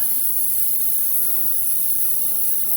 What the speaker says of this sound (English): So I'm just spraying here